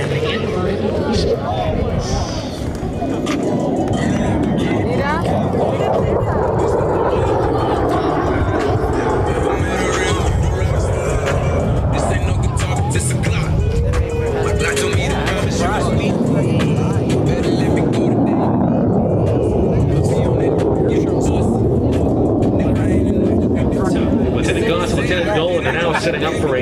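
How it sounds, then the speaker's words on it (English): An F/A-18 Super Hornet flies an inverted boost at a Nellis Air Force Base airshow, giving a continuous loud jet roar that swells and shifts for the whole stretch, with crowd noise beneath. "is the Super Hornet and the inverted boost."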